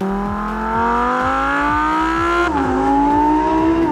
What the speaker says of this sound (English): The engine is as close as physically possible to the rear wheels, along with a very unique Lamborghini sound.